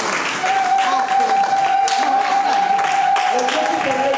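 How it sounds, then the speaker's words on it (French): Church congregation applauding and cheering, a steady wash of clapping and voices that carries throughout, with a sustained tone and someone speaking above the crowd. "Est-ce que tu peux acclamer, acclamer, acclamer?"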